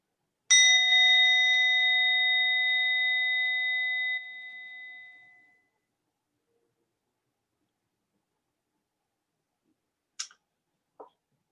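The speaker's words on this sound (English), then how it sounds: "I'll be ringing the bell soon." A meditation bell struck once, ringing clear and bright with a long, steady hum that slowly fades over about five seconds, followed by quiet and two faint, brief clicks near the end.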